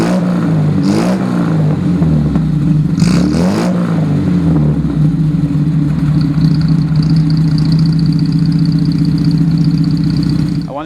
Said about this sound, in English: How about I start the car for you so you can hear what it sounds like